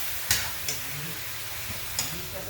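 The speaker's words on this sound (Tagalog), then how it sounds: "Haluin natin ng maigi" Marinated meat and vegetables being stirred in a pan give soft scraping and clacking strokes, three or four distinct hits over a faint steady sizzle, with a quiet voice in the background.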